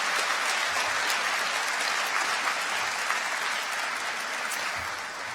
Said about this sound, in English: you should give them all a quick round of applause as well